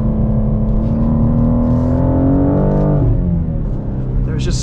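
A 2023 BMW M2 with a six-speed manual driven hard on a track, its engine note climbing steadily under load, then dropping sharply around a gear change before pulling again, loud and close from inside the cabin.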